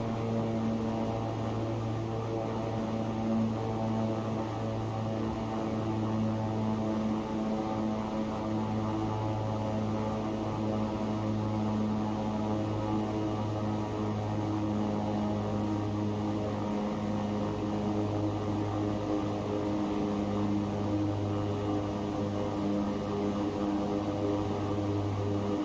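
Steady propeller-aircraft drone from X-Plane 11 as the props are throttled back at cruise altitude, a continuous engine hum with strong low harmonics running evenly throughout, no talk.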